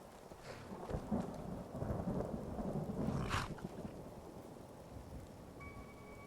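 Rain and thunder in Skyrim, a continuous hiss of rainfall with low rolling thunder swelling and fading in the background, fairly quiet overall.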